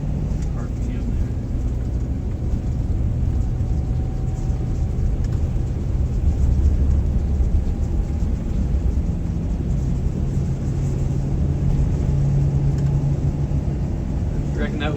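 An overweight bus with a new turbo labours up a hill, its engine a steady loud low drone heard from inside, with people talking over it throughout.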